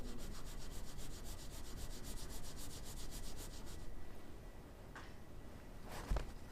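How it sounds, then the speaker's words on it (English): Rapid rhythmic rubbing as a cotton-tipped applicator scrubs a metal surface before strain gauge bonding, quiet and close, slowing into a few faint scrapes toward the end. "I'm going to work it into the grooves with the cotton tipped applicator"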